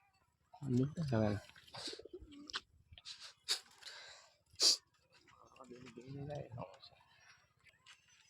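Pigeons coo in soft repeated bursts nearby, mixed with people talking and a few sharp clicks and rustles.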